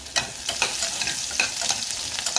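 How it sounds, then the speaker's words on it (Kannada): Mustard seeds, cumin, garlic and green chilli fry in oil, a close sizzle broken by sharp repeated pops and crackles throughout, with no talk. "ಸ್ಪೂನ್ ಎಣ್ಣೆ ಸಾಸಿವೆ ಜೀರಿಗೆ ಹಾಕಬೇಕು ಅದು ಸ್ವಲ್ಪ ಚಟಪಟ ಅಂತಿದ್ದ ಹಾಗೆಯೇ ಬೆಳ್ಳುಳ್ಳಿ ಹಾಕಿ"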